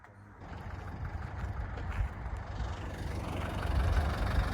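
A custom Land Rover Defender D90 idles outdoors in the Tetons, a steady low rumble that holds even throughout and swells slightly toward the end, heard alone without talk.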